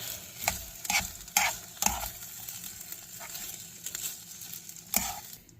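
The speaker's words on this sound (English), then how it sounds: "And give this a stir." Sauce warms gently in a pot on a low camp stove, and a utensil stirs it in several distinct scraping strokes over a faint background hiss, fairly quiet and close.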